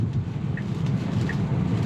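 Steady rain hisses around a Tesla driving on California roads, a dense wash of noise with a low rumble beneath and a couple of faint brief chirps.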